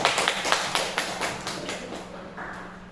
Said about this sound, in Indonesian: Sekali lagi berikan tepuk tangan.